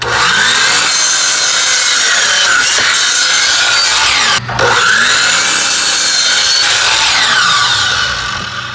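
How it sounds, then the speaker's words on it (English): A miter saw whines loudly and steadily through wood, two long close cuts separated by a brief pause. "let's go over to the miter saw"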